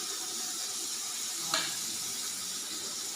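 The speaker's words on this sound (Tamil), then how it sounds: "இந்த மீன் வறுத்துக்கிட்டு இருக்கு." Fish frying in a pan, a steady soft sizzle throughout with one brief sharp crackle midway.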